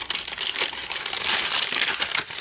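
A paper bag crinkles and crumples continuously as its sides are tucked in and it is pressed flat, a close, dry rustling with no talk.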